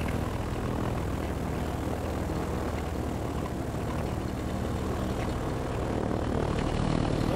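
A paramotor engine warms up with its propeller spinning, giving a steady, loud, close drone that holds constant from start to finish, with no voices.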